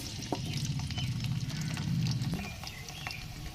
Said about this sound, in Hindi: चावल बनाने के लिए हमने 2 प्याली ऑयल डाला है, साथ ही इसमें डालेंगे प्याज।